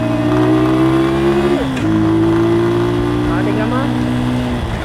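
A motorcycle engine hums loudly at steady revs, drops as the rider engine-brakes, then climbs again with rising revs through the shifts, heard up close throughout.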